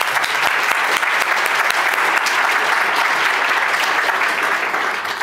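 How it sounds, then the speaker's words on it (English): Loud, dense applause fills the room at an award ceremony for a See-Through Maps first prize, continuous and even with no voices, easing slightly at the end. "A round of applause."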